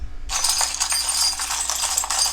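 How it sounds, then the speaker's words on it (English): Small charms tumble and clatter out of a deck of cards as it is shuffled, a dense run of light metallic clinks and rattles that starts abruptly and continues steadily, close and fairly loud, with no talking. "And some charms fall out, and that's okay because I take those too."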